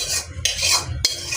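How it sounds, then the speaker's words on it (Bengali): Cooked bitter gourd and potato curry with mustard paste is scraped and poured from a pan, a brief close rasping slide with a couple of soft metallic scrapes, no talk. "এখন আমি ঢেলে নেব তরকারিটা"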